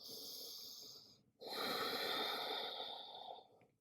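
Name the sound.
deep breathing during yoga child's pose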